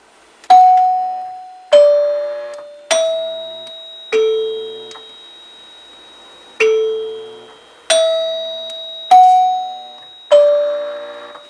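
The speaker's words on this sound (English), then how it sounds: "Now we'll ring the 8-note chime." A 1947 NuTone K40 8-note door chime with freshly mounted tone bars rings out eight separate struck tones, each clear bell-like note decaying slowly before the next, loud and with nothing else heard.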